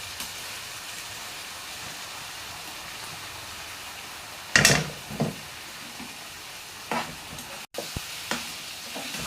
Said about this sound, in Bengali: এখন আমি এই চাউলগুলা দিয়ে দিব, চাউলটা একসাথে দিয়ে দিব।